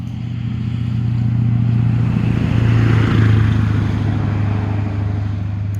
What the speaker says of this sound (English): Truck went by.